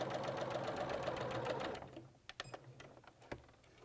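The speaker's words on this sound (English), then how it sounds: "So I'm sewing just to the outside of that line, all the way across the diagonal." A sewing machine stitches a flying geese quilt block along the diagonal, running steadily and close for about two seconds before stopping. A few sharp clicks and taps follow.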